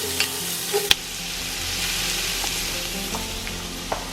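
Garlic, onion and ginger sweating in a pan for Korean braised short rib, giving a steady soft sizzle with occasional stirring scrapes and light clicks, close by and with no talk.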